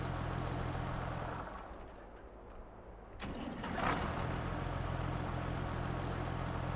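An International 1466 Turbo tractor in Farming Simulator 22 cranks briefly and fires up, then settles into a steady diesel idle over a constant background rumble.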